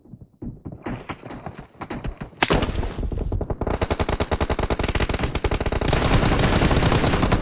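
Rapid bursts of automatic gunfire ring out in the video game PUBG, loud and close, with scattered shots at first. A dense, continuous rattling volley follows through the rest of the clip.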